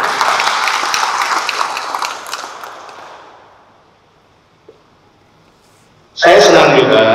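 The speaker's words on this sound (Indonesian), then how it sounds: "tepuk tangan untuk win." Audience applause at a formal academic address attended by a government minister: dense clapping that fades away over a few seconds, then a near silence before speech resumes loudly.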